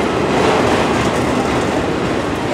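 A Norfolk Southern freight train hauling TTX autorack cars rolls steadily past close by at Spartanburg, South Carolina, a continuous loud rumble of wheels and rail noise with no gaps.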